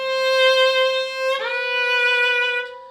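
A viola plays a sustained bowed note, then makes an expressive sliding shift with the third finger into a higher note that rings on clearly and close before fading, with no talking.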